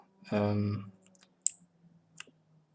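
A mechanical keyboard switch, the speed silver type on a KBDFans SuperSwitchTester, gives a single sharp click followed a moment later by a fainter second click. A voice is heard just before.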